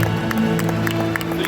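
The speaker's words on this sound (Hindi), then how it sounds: "तालियां हो जाएं।" Continuous applause and crowd noise from an audience at a film festival opening ceremony, with dense steady clapping throughout.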